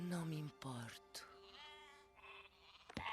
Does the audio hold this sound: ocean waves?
no